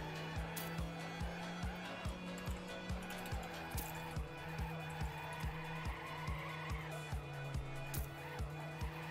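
A car in a racing video game drifts around bends, a steady engine drone with tire squeal and rhythmic clicking pulses running continuously throughout, loud and close with no talk over it.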